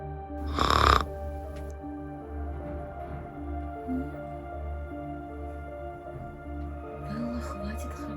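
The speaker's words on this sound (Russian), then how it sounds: "Я говорю, хватит храпеть." A person snoring in a short comedy film, with one loud, rasping snort near the start followed by quieter breathy rumbles over a steady low hum.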